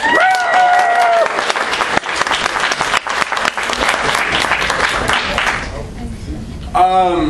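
A convention crowd at an anime festival charity auction claps and cheers loudly, with a voice calling out over the applause before it dies down and speech resumes.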